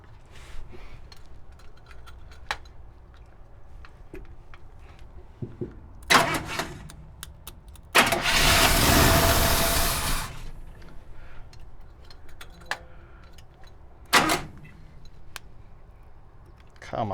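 A Chevy C10 truck left sitting for seven years cranks over in a loud, rough burst of about two seconds amid clicks and knocks, with people talking around it.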